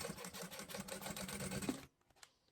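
A sewing machine stitches slowly along a plastic fabric crease, a rapid close mechanical chatter that runs for about two seconds and then stops, leaving a few faint clicks.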